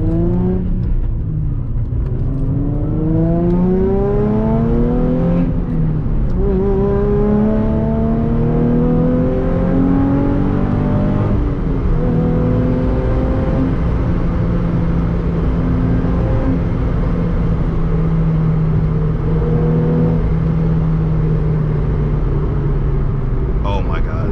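A Nissan 350Z accelerates through the gears on the road, its engine note climbing and dropping with each shift, heard from inside the car as a loud, continuous drone.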